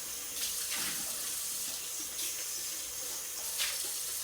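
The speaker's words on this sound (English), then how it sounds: "we're just going to run them in some water and rinse them off" Steady rush of running tap water over cucumbers with a few soft splashes and shifts in flow, continuous throughout with no voices.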